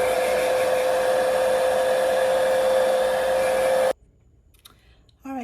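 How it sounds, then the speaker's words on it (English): A hair dryer drying an acrylic painting blows loud and steady with a constant whine for about four seconds, then cuts off abruptly, leaving quiet room noise and a brief faint sound at the end. "And then I'm going to dry it completely with my dryer."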